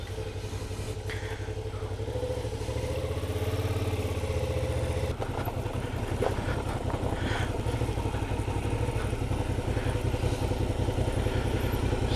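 Suzuki V-Strom 650XT motorcycle engine running in the woods, a continuous low rumbling drone at steady volume with a slight change in tone midway and faint clattering over it.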